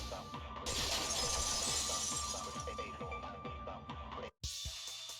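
A vase shatters in the Danganronpa 2 video game: a loud, dense crash of breaking ceramic that sustains for several seconds, cuts out briefly, then returns as a fainter scatter of debris.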